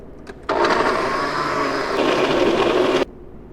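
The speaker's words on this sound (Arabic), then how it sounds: "هنشغل الخلاط." A kitchen blender blending hot peppers whirs loudly for about two and a half seconds with a steady high-pitched motor drone, then cuts off abruptly.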